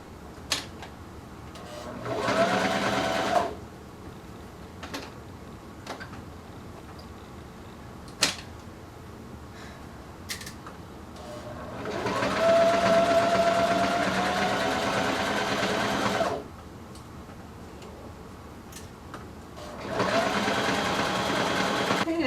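A sewing machine stitches a shirt in three bursts of steady whirring, short, then long, then short again, separated by quiet pauses with small clicks and thumps, under a voice explaining the work.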